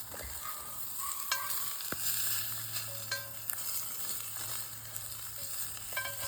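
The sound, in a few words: meatballs frying in oil in a pan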